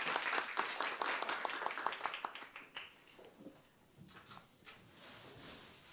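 Audience applause at the end of an academic session: dense clapping from a room of people for about three seconds, then thinning to scattered claps and quieter room noise, with a fresh burst right at the end.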